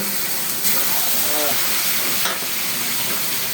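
Pieces of beef go into a hot pan and fry, a dense continuous hiss and sizzle close by, with a couple of brief louder surges as the meat lands and is stirred.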